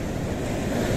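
Large sea waves breaking on the beach at Puri on a misty morning, a continuous loud surf roar with wind buffeting the microphone.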